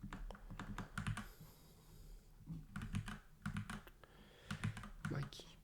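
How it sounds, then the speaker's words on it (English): Someone types on a computer keyboard in bursts of rapid, quiet clicks separated by short pauses, while a person talks softly over the keystrokes. "My keyboard."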